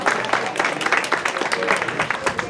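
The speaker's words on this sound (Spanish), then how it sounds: "un aplauso." An audience at a historical novel event applauds in a brisk, continuous wash of clapping from many hands, moderately close and fairly loud for a few seconds.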